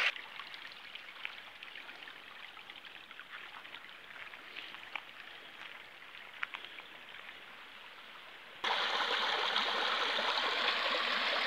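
Cold mountain spring water flowing in forested hills near Haripur, Hazara, Pakistan, a steady close rushing and splashing that grows louder and brighter toward the end.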